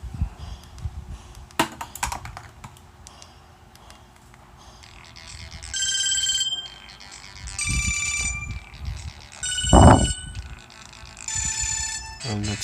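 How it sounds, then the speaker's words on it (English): A Samsung GT-E1200M mobile phone, just repaired after water damage, plays its melodic ringtone in several short bursts that come and go under light handling noise and a quiet voice. "It's ringing."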